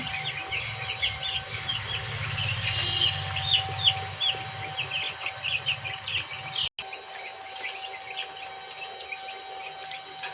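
About two hundred fifty young chicks in a poultry pen make a dense chorus of high, shrill peeps. A low hum runs underneath for the first part, then briefly cuts out.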